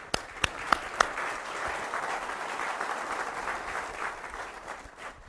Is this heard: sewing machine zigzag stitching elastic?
no